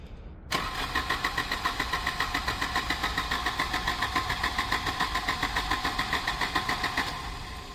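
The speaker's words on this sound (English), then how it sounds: "I'm going to crank it over and see if we can get it started again" A Volvo 240 with a troublesome K-Jet injection system cranks over repeatedly, the starter's rhythmic chugging pulses steady and close for several seconds without the engine catching, then winding down.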